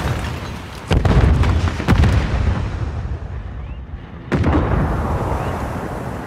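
Grenade explosions in a military first-person shooter video game: three loud, booming blasts, each followed by a rumbling decay, set against steady game background noise.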